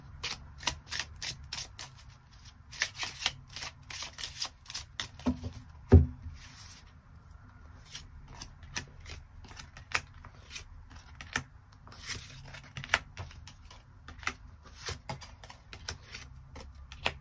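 Tarot cards are drawn and shuffled during a weekly reading, giving a run of crisp, close card flicks and slides in irregular bursts, with one sharper tap partway through; no talking.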